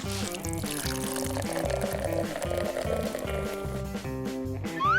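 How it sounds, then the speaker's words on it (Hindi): Water poured steadily into a jar for several seconds, a continuous splashing pour under loud music with no speech. "चलो अब जल्दी से इस जार में पानी डालते हैं।"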